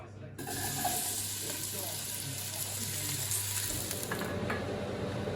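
Onions and garlic with sliced shallots fry in a pan for a tomato sauce, giving a steady close crackling sizzle throughout with a low hum underneath.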